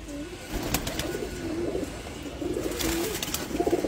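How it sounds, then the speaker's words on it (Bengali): Giribaz pigeons coo in a low, repeated throaty rumble, several birds overlapping at moderate distance with steady background noise and no talk. "আর এতদিন ফুল রেস্টে রাখা ছিল কবুতরগুলো"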